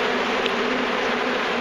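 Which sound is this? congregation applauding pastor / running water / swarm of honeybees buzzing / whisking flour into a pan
swarm of honeybees buzzing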